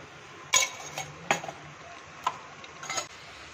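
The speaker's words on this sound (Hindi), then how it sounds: "अब इस टाइम पे इसमें थोड़ा सा देसी घी डाल देंगे, ज्यादा नहीं, 1-2 चम्मच" A spoon clinks against a pan as one or two spoonfuls of desi ghee go into bottle gourd halwa, with a few sharp metallic taps spaced apart over a quiet background.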